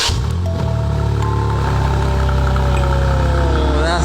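A BMW M4 Competition with an aftermarket exhaust idles close by, a loud, deep, steady burbling rumble with a faint rising tone over its few seconds.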